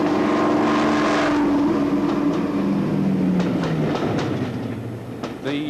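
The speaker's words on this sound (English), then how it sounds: "They were the only production class of diesel electric locomotive built with two engine and generator sets." A Deltic twin-engine diesel-electric locomotive running, its loud, steady engine drone with shifting tonal hum and rail clatter, close and continuous throughout.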